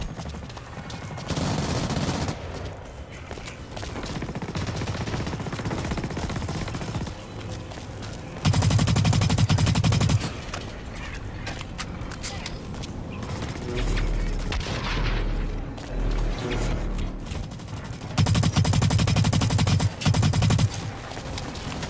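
Sustained bursts of fully automatic gunfire from the Blacklight Retribution shooter game, loud and rapid, with heavier volleys around the middle and end amid other battle noise.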